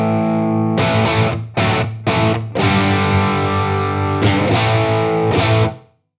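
Electric guitar played through a modded Plexi amp on its second channel, loud and distorted, with several short strummed chord bursts and then longer ringing chords that cut off abruptly at the end.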